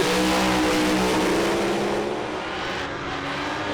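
A Pro Slammer drag car, the ACDelco Monaro, races down the strip at a 400 Thunder Professional Series round. Its engine gives a loud, sustained roar throughout, close and overpowering, easing slightly toward the end.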